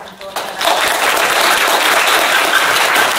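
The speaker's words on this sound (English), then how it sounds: "join me in a round of applause for Dr. Flores" An audience at a medical school talk about preparing for the practice of medicine breaks into applause, starting quietly and swelling within half a second into steady, dense clapping that fills the rest of the moment.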